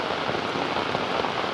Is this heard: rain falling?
yes